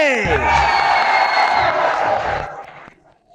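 Studio audience on a Kannada comedy talk show breaks into loud, sustained applause and cheering with whoops, fading after about three seconds.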